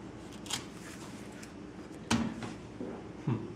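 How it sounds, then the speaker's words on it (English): Register pins on a Gutenberg-style hand printing press poke through a sheet of paper, giving faint papery rustles and a few soft sharp taps, the clearest near the middle and end, in a quiet room. "Now watch this, these pins poke through the paper."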